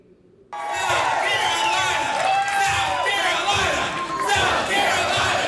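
An excited crowd fills a downtown Marriott hotel ballroom at an election-night Republican victory event, cheering and whooping loudly and steadily throughout, with shouts rising above the roar.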